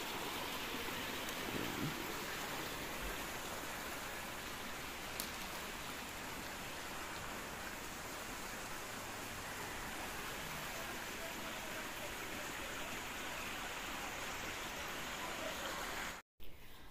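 Water pours steadily into a small, deep resort swimming pool as its water is changed, making a continuous, close rushing hiss that cuts off briefly near the end.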